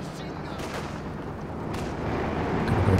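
Anti-tank guns and machine guns firing in the Company of Heroes 2 battle game, a dense, continuous mix of distant booms and rattling bursts that grows slightly louder, with a voice talking over it.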